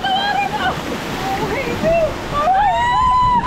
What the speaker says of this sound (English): Yeah, that's a waterfall.